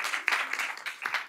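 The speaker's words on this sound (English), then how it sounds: "A hands of applause to Julia" Brief applause from a summit audience, a short burst of scattered hand claps, light and fairly close, lasting just over a second.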